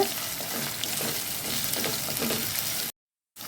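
Green chilies, garlic and curry leaves sautéing for a crab curry over a medium flame, a steady close sizzle with stirring scrapes throughout, then a brief cut to silence near the end.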